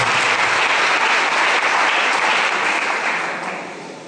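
A church congregation applauds: dense, steady clapping from a crowd, loud and continuous for several seconds before tapering off at the end.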